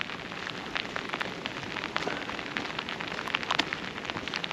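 Heavy rain pours down outdoors in a dense, steady hiss scattered with sharper drop impacts, filling the whole stretch without any talking.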